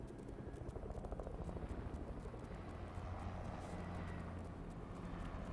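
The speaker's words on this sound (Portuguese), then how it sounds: "Mas anda aqui um helicóptero, anda." A helicopter's rotor in the video game Fortnite thumps steadily and continuously at moderate distance, a pulsing drone with no voices.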